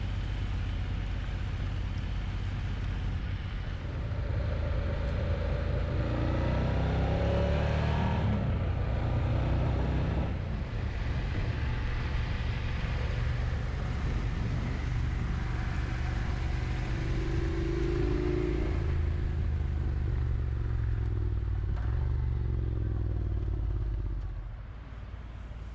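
A car rolls along a gravel road, giving a continuous low engine rumble under crunching, clattering tyre noise that holds steady for a long stretch before easing off.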